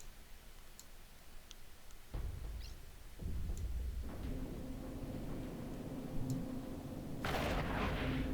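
Missile fire and explosions in a mech combat video game. Sharp launches and heavy booms start sparse, then turn into a dense, loud barrage, with no talk.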